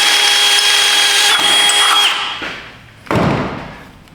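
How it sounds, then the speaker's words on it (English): A power drill with an Astro Tools Hyperstep high-speed bit whines steadily at high pitch, then slows and cuts out, followed by a brief burst of grinding as the bit bites again. "That is the Astro Tools Hyperstep high-speed drill bit"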